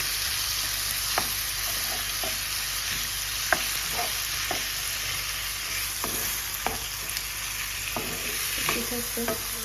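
Potatoes with spices fry in a pan with a steady, loud sizzle, while a utensil stirs and scrapes the pan in scattered sharp clicks throughout.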